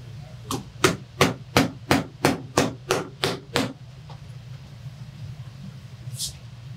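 Hammer tacking nails into a western saddle, nine sharp, evenly spaced strikes close by, followed by quieter handling and a faint hiss near the end.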